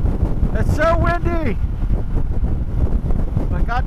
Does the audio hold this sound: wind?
yes